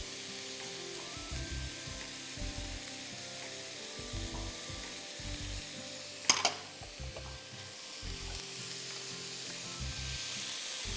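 Tomatoes and carrots hit a hot pan and sizzle steadily for several seconds, a low continuous frying hiss with a brief louder clatter of a utensil partway through, no voices.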